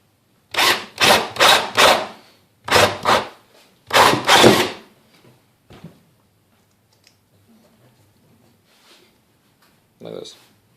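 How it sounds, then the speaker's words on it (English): A hole saw grinds into a motorcycle headlight projector cap in several short, loud bursts, then quiet follows with a few faint sounds and one last brief burst. "drill a hole right in the center of the cap."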